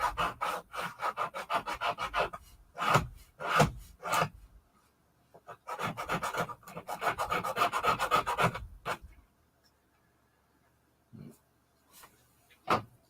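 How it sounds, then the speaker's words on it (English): Wood being sanded by hand, rhythmic rasping strokes close by in two long bursts with a pause between, followed by a few isolated scrapes and knocks. "need more sanding."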